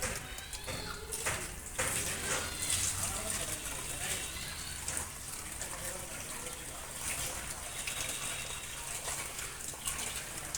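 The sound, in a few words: draining soaking water from finger millet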